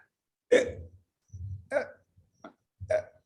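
A man imitates hiccups with his voice during a lecture on the respiratory system, producing several short, abrupt throaty bursts spaced about a second apart in a quiet room.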